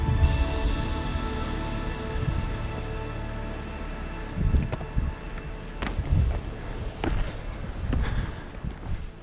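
Gusty wind buffets the microphone in low rumbling surges, swelling loudly several times over a steady background hum.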